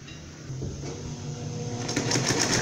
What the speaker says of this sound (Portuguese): E vamos passar uma costura aqui, ó.